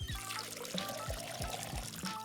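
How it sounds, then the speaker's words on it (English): Water pouring into a watering can in the video game Schedule I, a steady close pour with background music tones running underneath. "So I grabbed the water can, filled it up."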